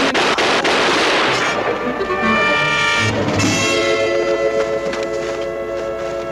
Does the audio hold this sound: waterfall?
no